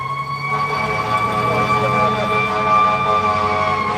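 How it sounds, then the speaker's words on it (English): A fire engine siren wails loudly and continuously, its steady tonal cry filling the whole stretch without fading or breaking. "Hey, that's a fire engine."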